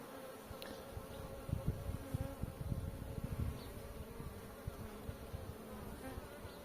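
Honeybees buzz at the hive of a strong colony bringing in apricot pollen, a dense close hum with individual bees droning past, fairly faint and continuous with no talking.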